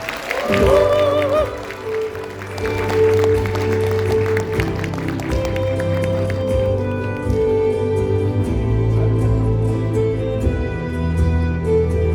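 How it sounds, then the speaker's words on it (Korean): Audience applause at a Korean seminar welcomes a lecturer onto the stage, a steady wash of clapping running beneath loud, tonal walk-on music for the whole stretch. "큰 박수 부탁드립니다"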